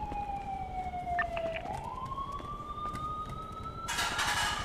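Police siren from a video game, a wailing tone that slides down then slowly rises, loud and steady, ending in a burst of noisy static, with faint game sounds underneath.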